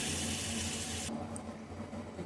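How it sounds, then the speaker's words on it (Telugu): Water poured into a cooking pan with turmeric and cumin, a close, soft rushing splash that cuts off about a second in, leaving faint quiet room noise. "సరిపడా నీళ్లు వేసుకొని కొంచెం."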